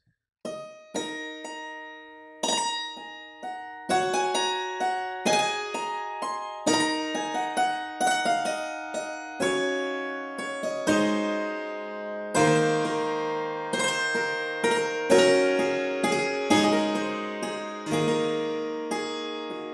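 Struck metallic notes of a Dulciano hammered piano sample for Kontakt 7 ring and decay, single hits first, then rapid dulcimer-style rolls that thicken into shimmering tremolo chords.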